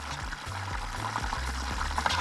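Water poured into a pot of rice cooking on the stove, a steady splashing trickle lasting about two seconds over low kitchen rumble and faint bubbling.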